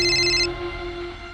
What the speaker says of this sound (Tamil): சாரி சார், என் பிரதர் ஃபோன் பண்ணுறாரு